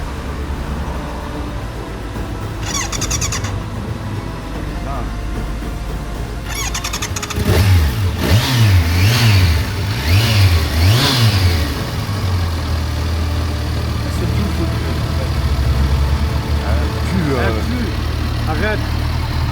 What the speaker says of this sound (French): la moto de Kevin redémarre enfin